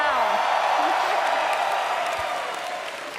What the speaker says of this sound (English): It's so cringe when people clap for themselves.